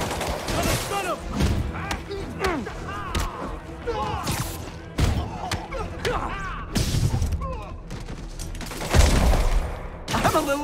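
Rapid bursts of gunfire from Marvel's Spider-Man Remastered mix with thuds and impacts during a street fight, while voices shout over the action and combat effects keep up a dense, loud backdrop.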